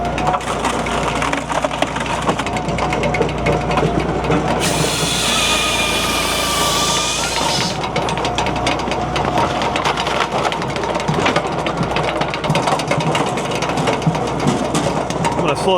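A Japa 395 firewood processor splits boiler wood, a loud, steady engine and hydraulic drone with continuous cracking and crunching of wood and a brief high hissing burst partway through, close up.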